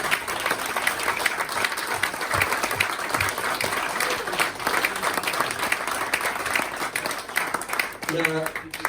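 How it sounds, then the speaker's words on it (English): Guests at the Carlton Town football club presentation evening give a round of applause, a broad, continuous wash of many clapping hands that holds steady, with a few voices rising near the end. "a round of applause for them two"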